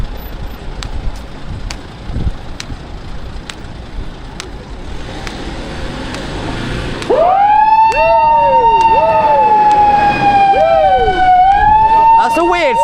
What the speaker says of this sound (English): That's a weird sounding siren.